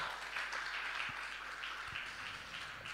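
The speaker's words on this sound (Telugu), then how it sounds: "ఒకసారి సంతోషంగా ఉన్న వారందరం చప్పట్లు కొట్టి దేవుని మహిమపరుస్తాం." A church congregation claps together in praise, a soft, fairly distant wash of many hands with a few louder thumps, steady and low in level throughout.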